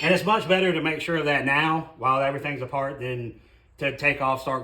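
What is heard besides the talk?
No everyday noises stand out.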